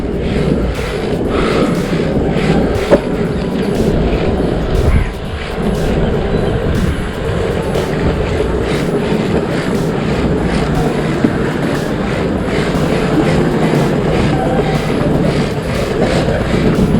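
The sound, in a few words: Oxelo Carve 540 longboard wheels rolling over sandy road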